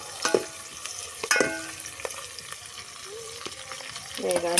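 Fenugreek seeds sizzle in hot oil for a mutton curry tempering, a close, steady frying crackle with a few sharp stirring clinks and scrapes from the pan.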